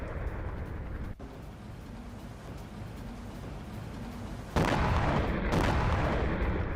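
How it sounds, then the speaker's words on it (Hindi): Distant booms from a Ukrainian missile strike on Kerch city, captured in news footage: a sharp thud early on, then a loud, sustained rumbling blast near the end under steady background noise. "कर्च सिटी पर यूक्रेन के 20 मिसाइल हमले।"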